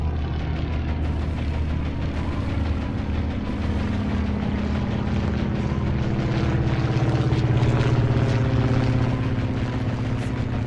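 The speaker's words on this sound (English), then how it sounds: "I've learned to listen to the aircraft engines" Torpedo bomber aircraft engines in the Atlantic Fleet naval video game drone loudly and continuously, the propeller roar rising slightly in pitch as the planes draw nearer.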